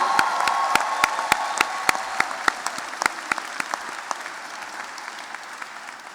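Graduation audience at a University of Baltimore spring commencement breaks into sustained applause, dense claps with sharp individual hand strikes up front, holding steady for the whole stretch with no talking over it.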